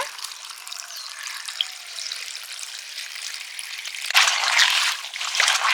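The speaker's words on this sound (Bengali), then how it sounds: "জবা পাতার শরবত করার জন্য পাতাগুলো ভালো করে ধুয়ে নিয়েছি এবারে জল দিয়ে চটকে নেব" Hibiscus leaves mashed by hand in water give a continuous wet squelching and sloshing, close by, growing louder and busier in the last couple of seconds.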